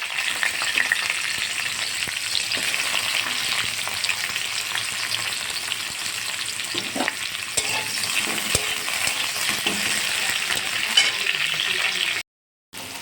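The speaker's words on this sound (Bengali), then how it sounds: "বেশি করে তেল দিয়ে একে একে সবজিগুলো সব ভেজে নেব" Sliced bitter gourd frying in plenty of oil for a vegetable sukto, a steady dense sizzle running throughout with occasional stirring clatters, close and loud, cutting out briefly near the end.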